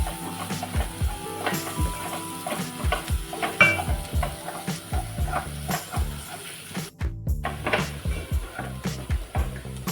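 Pav bhaji masala and Kashmiri red chilli powder stirred in a frying pan with a spoon, giving repeated scraping strokes over a soft sizzle, close and fairly clear.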